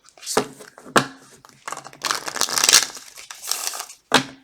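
Tarot cards being shuffled, with several bursts of crisp riffling and rustling card noise, close and fairly loud, separated by short pauses.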